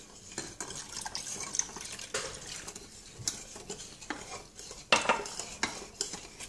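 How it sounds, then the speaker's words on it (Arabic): Cream being stirred gradually in a pot over low heat on the stove, with soft scraping and light clinks of a utensil against the pot, close and fairly quiet, plus a few sharper taps. "كنبداو نحركو تدريجيا حتى كتختار العافية متكونش مجهدة."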